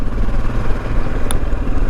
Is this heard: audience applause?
no